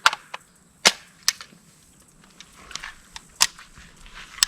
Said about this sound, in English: I'll put 10 rounds down.